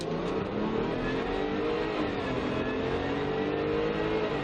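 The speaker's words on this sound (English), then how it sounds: "supercharged V6s sound really, really cool" A supercharged V6 engine revs steadily with a rising, throaty drone that holds loud and close throughout, no talking over it.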